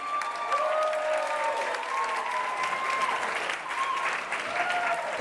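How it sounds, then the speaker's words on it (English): Wedding guests at a reception in a beach rotunda clap steadily for the bride's grandparents, a sustained crowd applause with a faint tonal hum beneath it. "Let's give them a big hand."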